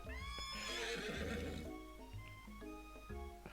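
A horse whinnies loudly and close in a KFC dating sim game, a long harmonic neigh that tapers off, followed by softer snorting and shorter whinnying calls.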